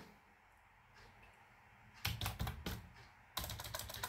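Typing C++ code on a computer keyboard: quiet at first, then two quick, close flurries of crisp key clicks, the second more steady and sustained, with no talk.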